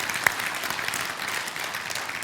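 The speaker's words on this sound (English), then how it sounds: "just give Kyle a round of applause for that" Audience applause at a church talk, a short, dense burst of clapping with one sharper clap near the start.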